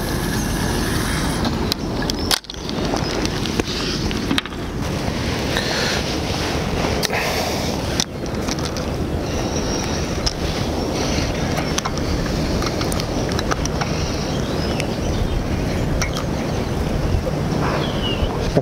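Steady wind roars and buffets across the microphone beside a lake during feeder fishing for bream, a continuous loud broadband rush with a few sharper gusts and thumps.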